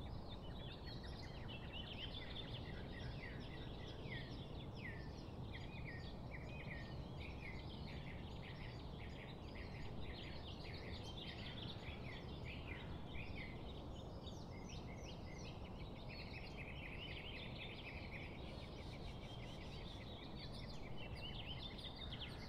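Many birds of an equatorial forest call in a dense overlapping chorus of chirps and whistles, steady and fairly close throughout, layered over a constant low rumble of background noise.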